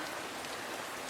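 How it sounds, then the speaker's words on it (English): Torrential rain pours down onto a drenched patio on Anna Island in Halkidiki, Greece, a dense, unbroken hiss of heavy downpour close by with no voices. "Torrential rain."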